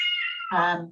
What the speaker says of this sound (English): That's my cat supporting me in the background.